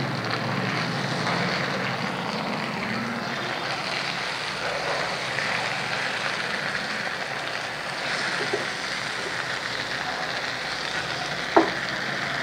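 Tandoori chicken frying in a small frying pan, a loud continuous sizzling roar that holds steady throughout, with a single sharp knock near the end as the pieces are flipped.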